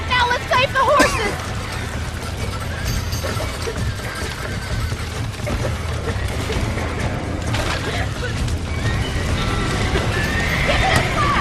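Horses in the Red Dead Redemption video game whinny loudly and their hooves clip-clop amid clattering action, while voices talk and shout over the commotion.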